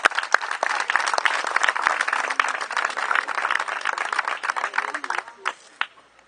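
Loud applause at a storytelling event before a tale is read, with dense, vigorous clapping for about five seconds that thins into a few final claps.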